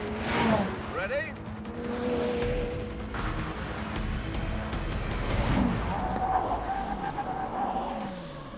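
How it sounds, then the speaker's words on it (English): A McLaren Senna and a Jaguar F-Type brake hard from 100 mph on a test track, with loud engine roar and shifting tones that fall away as both cars slow, all under continuous noise. "when we get to that cone down there, we're both going to brake."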